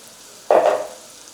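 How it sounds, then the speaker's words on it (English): Abacha, shredded cassava, stirred into a hot sauce in a pan, heard as one brief, loud scraping stir lasting a few tenths of a second against quiet background. "You add the abacha and stir it in"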